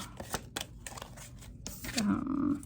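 A deck of tarot cards is shuffled up close, with soft riffling and flicking of the cards under faint talk.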